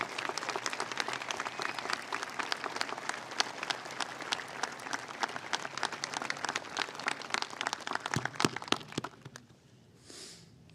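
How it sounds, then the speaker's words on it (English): A graduation audience gives sustained applause for veterans: dense, even clapping from a large crowd continues for about nine seconds, then fades out to near quiet. "please, everyone, give them a round of applause for their dedication to our country."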